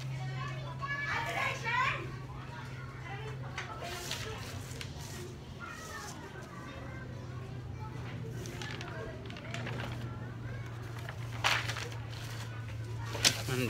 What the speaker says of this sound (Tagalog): maingay yung mga bata sa labas. Kasi hapon na ngayon, naglalaro na yung mga bata.